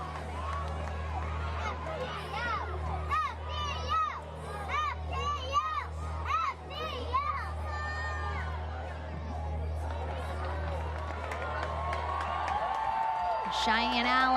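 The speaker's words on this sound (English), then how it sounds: "Got a good crowd here tonight at Beyond Bankard Field at NSU." A crowd at a night soccer match at Beyond Bankard Field, NSU, keeps up a steady din of cheers, shouts and high children's voices, with a commentator talking over it and horn-like toots near the end.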